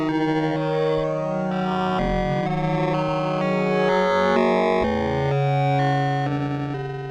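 A Korg Minilogue XD analog synth with its filter engaged, run through a Red Panda Bitmap 2 effects pedal, holds steady distorted, effect-laden tones that shift pitch every second or so, loud and continuous with no talking.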